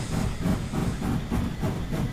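Toy train with a black engine and green carriages passing close by in a landscape setting, giving a steady rhythmic clatter and hiss with regular wheel beats, no voices.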